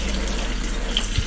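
Hot water runs steadily from a tap, a loud continuous broadband rush close by with no pauses and no voices.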